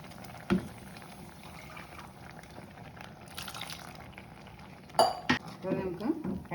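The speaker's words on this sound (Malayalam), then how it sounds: "മിക്സി കഴുകി കുറച്ച് വെള്ളം കൂടി നമുക്ക് ഇതിനകത്ത് ഒഴിക്കാം." A steel mixer jar is rinsed and water poured into a pot of drumstick-leaf lentil curry (muringayila parippu curry): quiet kitchen, with sharp clinks near the start and around the five-second mark, followed by a short run of sloshing and splashing.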